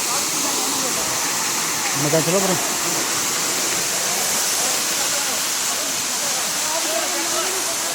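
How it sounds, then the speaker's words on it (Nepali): A waterfall in Shivapuri National Park roars as a steady, loud rush of broadband water noise, while a person speaks briefly over it. "देख्न सक्नुहुन्छ झरना"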